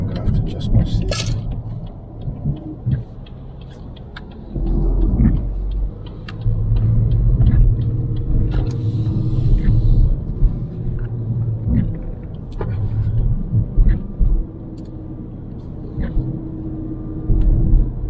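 Lexus UX 250h hybrid car pulling away and driving through heavy rain, heard as a steady low road rumble with scattered clinks and patters, continuous for the whole stretch with no talk.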